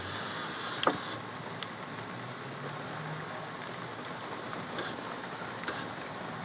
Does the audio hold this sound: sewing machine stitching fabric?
no